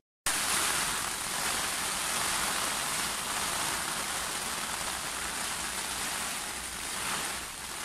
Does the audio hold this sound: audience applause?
no